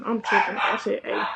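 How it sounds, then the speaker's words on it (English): Dogs bark somewhere in the background while a person talks steadily in the foreground, the barking partly masked by the voice. "I don't know if y'all can hear the dogs in the background barking"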